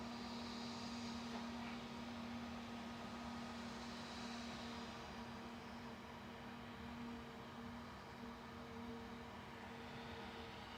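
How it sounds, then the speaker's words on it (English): A private jet taxis at Manchester Airport, a steady faint engine whine and broadband rumble heard from a distance, continuous throughout with no talk. "Private jet on the move, also there's another dreamy departure."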